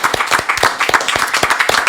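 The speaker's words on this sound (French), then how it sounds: "On applaudit quand même Manon qui a marqué un point." Studio audience at a televised regional game show clapping for a contestant, loud and close, with a steady rhythmic beat of hands.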